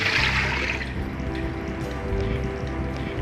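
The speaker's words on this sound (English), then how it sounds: "Pour in 700 ml of water." 700 ml of water pours into the inner pot of an electric pressure cooker in a steady splashing stream, close up, with a low hum running underneath.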